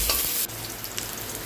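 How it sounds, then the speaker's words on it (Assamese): Onion and green chili with nigella seeds fry in hot oil, a loud bright sizzle that drops after half a second into a steadier crackling fry. "এইখিনি ৰঙচুৱা হালধিকৈ ভাজিব লাগিব"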